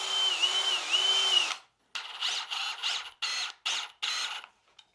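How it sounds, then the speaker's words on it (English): A drill whirs steadily while spinning a wooden dowel chucked in it for trimming, then stops, followed by a series of short bursts of spinning and rubbing, close up. "So chucked it in a drill here"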